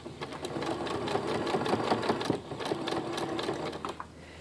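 A sewing machine runs steadily at close range, stitching a zipper guard on trousers, its rapid needle chatter continuous for a few seconds before slowing near the end.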